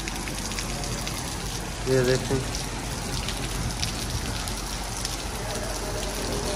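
Rain falls steadily on an Eid day after a sudden downpour began, a continuous wash of drops heard close by, with a person speaking briefly over it.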